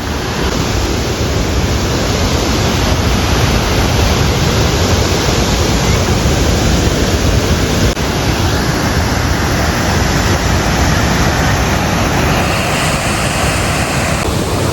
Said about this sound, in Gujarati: આ છે ગાંધીગીરની શાન ગીર જામવાળામાં આવેલો ગંભીર ધોધ